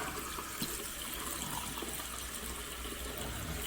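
Tap water runs steadily over glassware being rinsed after spray-painting with chalkboard paint, a continuous close splashing and gushing stream with no talk.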